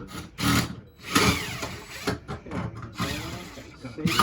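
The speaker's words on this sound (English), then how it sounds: "You're gonna take the drill, put a little Yeah. pressure on it." A power drill whirs in short bursts, stopping and starting several times, up close with some background noise between.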